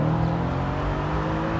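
Exhaust note of a Mercedes-Benz C63 on a downshift, a loud, steady low drone from inside the moving car with no talk over it.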